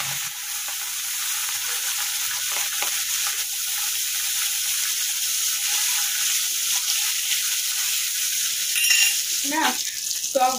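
Leafy greens fry in a pan with a steady, loud sizzle and hiss, joined near the end by a few scraping stirs of a utensil.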